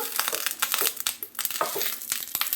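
Dry, burnt banana leaves crinkle and crackle as a palm pitha wrapped in them is stirred and turned, a busy run of close, irregular rustles with no talk over it.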